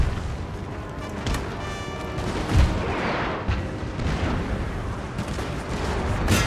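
Gunfire rattles through a Total War: Napoleon battle, with musket volleys crackling and scattered booms as Spanish cavalry and infantry engage, dense and continuous at moderate loudness.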